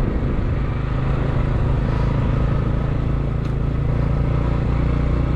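A motorbike engine drones steadily at close range, a constant rumble as it rides along Ba De road in Vinh Linh, Quang Tri, Vietnam.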